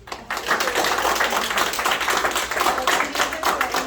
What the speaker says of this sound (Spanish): Le damos un aplauso a Ari.